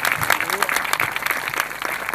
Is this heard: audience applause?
yes